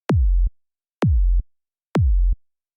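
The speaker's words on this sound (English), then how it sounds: "And now with all the pitch envelopes, our sine wave sounds like this." Three identical synthesized sine wave kicks built in Serum 2 with pitch envelopes for a hard techno psy bass kick, each a sharp click dropping into a deep booming tail, evenly spaced one second apart, loud and alone.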